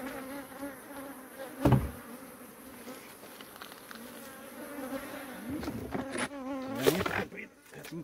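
Bees buzz steadily around an opened honey beehive with full honey supers, a dense insect drone close by with a few louder passes as individual bees fly near, no talking.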